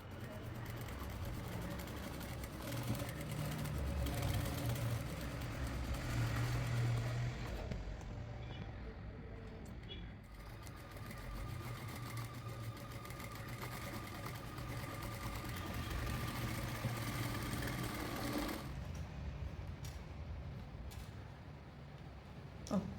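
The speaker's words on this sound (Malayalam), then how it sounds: "ഇനി നമുക്ക് ഇതും തയ്ച്ചെടുക്കാം." A sewing machine runs steadily, stitching churidar fabric along a marked neckline, its fast mechanical hum continuous and close with brief pauses and changes in pace.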